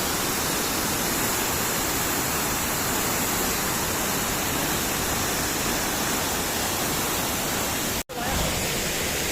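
Mailung waterfall in Rasuwa, Nepal, gives a dense, steady, loud roar of rushing water heard close by, unbroken apart from one brief dropout near the end.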